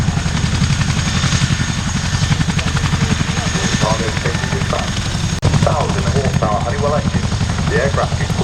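An RAF Chinook helicopter at an airshow gives off a loud, steady rotor thump and engine roar that runs throughout, while a commentator talks over it.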